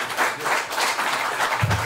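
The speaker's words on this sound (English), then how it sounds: "Give her a round of applause" Crowd applause at a presidential visit to Bonasika Creek in Guyana, a brief, moderately loud stretch of many people clapping in an outdoor gathering, steady and unbroken.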